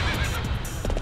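Horse neighing in the Warriors Orochi 3 video game, a short whinny over a steady game soundtrack, fairly close and alone without talk.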